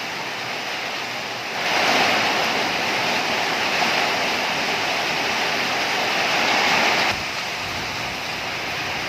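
A steady, broad roar of wind-driven rain swells for several seconds, then eases back to a lower constant rush; no talking.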